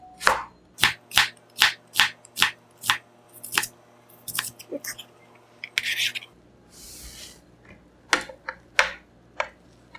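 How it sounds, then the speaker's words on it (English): Onions sliced thinly with a knife on a cutting board for Korean royal tteokbokki, a steady run of sharp, close chopping taps with a pause partway through, then a few more irregular cuts and light clatter. "And some onions. It also, I will cut,"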